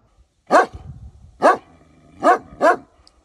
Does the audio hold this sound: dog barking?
yes